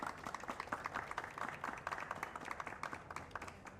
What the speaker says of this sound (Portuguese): Por favor, os vossos aplausos.